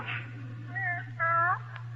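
A cat meows twice in an old radio drama, the second cry longer and louder, over a steady low electrical hum.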